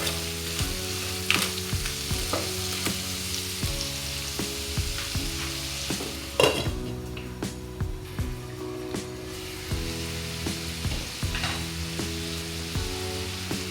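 Crab curry with chilli fries on a low flame, a steady soft sizzle with intermittent scraping and stirring clinks from a spoon against the pan.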